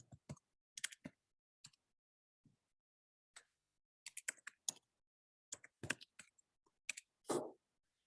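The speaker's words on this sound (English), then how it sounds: "Let me see what comes up here when I type in." Typing on a computer keyboard, heard as scattered bursts of key clicks separated by pauses, moderately close and quiet, with no talking.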